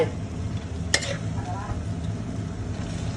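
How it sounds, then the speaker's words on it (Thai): Pork stir-fried in a pan gives a steady, close sizzle with a low rumble beneath it and a single sharp clack of a utensil partway through. "เราผัดหมูก่อน"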